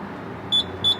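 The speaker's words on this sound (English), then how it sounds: "Why is it that a gas pump can only beep at you?" A gas pump at a filling station in Colorado beeps twice, two short steady electronic tones roughly a third of a second apart, loud and clear over a low hum of background noise.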